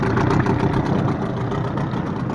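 A two-stroke outboard boat engine running steadily during a test run, a loud continuous droning hum with a fast pulsing rhythm and no pauses.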